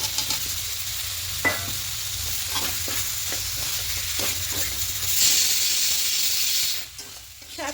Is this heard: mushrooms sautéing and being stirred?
yes